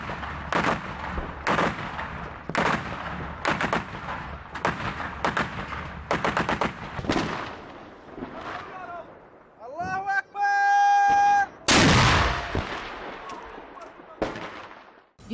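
News footage of gunfire in Syria: a rapid series of sharp, loud shots in bursts, followed later by a sustained tonal whine and a heavy blast, with a voice speaking over parts of it.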